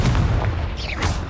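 Confringo blasting spell in Hogwarts Legacy, a loud low boom followed by a short crackling burst, standing alone over a deep rumbling bed.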